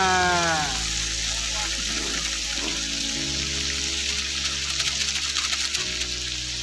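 Onion masala for a village-style goat meat curry frying in a pan, a loud steady sizzle running throughout with faint background voices.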